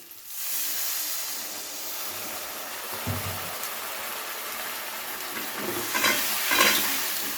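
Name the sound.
water added to sizzling spice masala in pan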